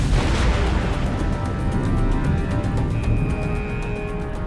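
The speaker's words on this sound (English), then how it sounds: "there was a thunderous explosion" A thunderous explosion tears into the USS Cole, a 505-foot, 8,400-ton guided missile destroyer. It sounds as a loud, dense, sustained roar of blast and rumble that fills the whole stretch without any voices.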